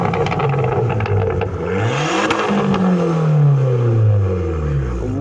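Abarth car engine starting up and revving hard, a loud roaring run with rising and falling pitch sweeps over about five seconds, close by and alone.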